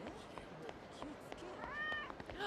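Several cats meow in the street scenes of the video game Yakuza 0, rising mews heard over game ambience, busy background sounds and a talking voice.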